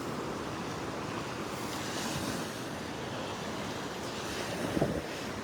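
Northeast wind and surf roll onto the beach at Delnor-Wiggins as a steady broadband roar of waves and gusting wind, constant in loudness with no voices, and a brief bump near the end.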